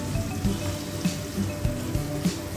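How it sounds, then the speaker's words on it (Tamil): Finely chopped raw mango goes into a hot pan of oil with curry leaves and asafoetida, making a close, lively crackling patter with repeated soft plops and no talking. "அடுத்து பொடியாக கட் பண்ணி வச்சுக்கிற மாங்காயை சேர்த்துக்கலாம்."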